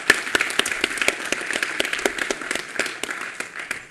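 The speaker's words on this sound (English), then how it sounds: "So let's give them a round of applause" Audience applause at a technical workshop session, dense and fairly close, with individual sharp claps standing out in a steady wash that holds for several seconds.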